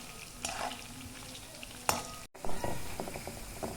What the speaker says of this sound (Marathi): अशा प्रकारे आपण सर्व भजे तळून घेऊया